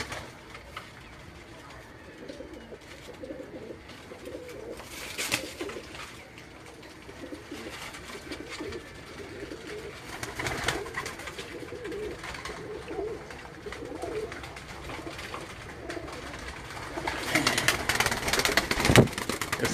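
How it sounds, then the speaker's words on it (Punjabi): Pet pigeons kept about thirty years coo on a rooftop in Gujrat, soft repeated coos at a moderate distance under a noisy outdoor background, with occasional faint voices nearby. "ਇਹ ਉਹਨਾਂ ਦੇ ਘਰ ਦੇ ਕਬੂਤਰ ਸਨ"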